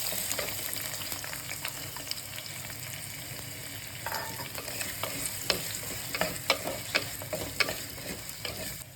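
Finely chopped onion and whole spices such as bay leaf and cardamom frying in oil for an egg curry, a continuous sizzle with frequent sharp stirring clicks and scrapes, close and without talk.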